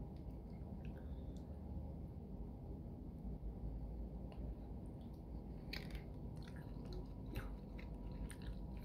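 Someone chews a peanut butter candy close up, soft wet munching with occasional sharper crunchy clicks in the latter half, steady and quiet with no talking.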